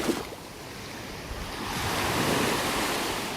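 Gulf surf washes onto a beach in North Naples, Florida, a steady broadband roar of breaking waves swelling slightly louder, with some wind across the microphone and no voices.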